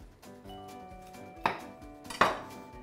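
A knife chops broccoli into bite-sized pieces on a board: soft cutting sounds, then two sharp, close chops about a second apart.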